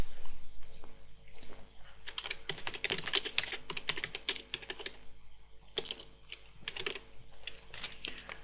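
Close, rapid keystrokes on a computer keyboard while HTML code is written, coming in busy bursts with short pauses and no voices.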